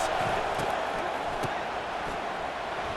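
Stadium crowd cheering in EA Sports College Football 25, a dense and continuous roar that holds steady at full volume for the whole stretch, with a few faint thuds inside the din.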